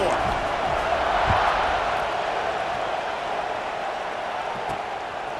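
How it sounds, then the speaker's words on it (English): A stadium crowd in the video game College Football 26 buzzes as a continuous, dense roar of many voices, steady and fairly loud throughout. "this crowd is buzzing after that last score"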